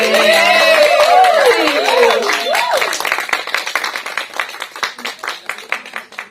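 A group claps during a photo session at a pre-launch event for a film, at first under excited shouting and chatter, then thinning into separate claps and scattered taps.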